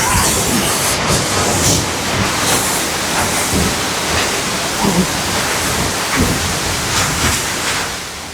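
Steady, loud roar of a waterfall, continuous broadband rushing water throughout with faint voices underneath.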